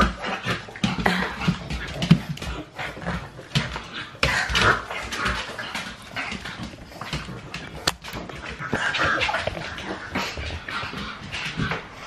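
A dog whimpers and makes small yipping and snuffling noises while chewing on a nerf gun bullet, close and fairly loud, continuing irregularly throughout with scraping and mouthing noises.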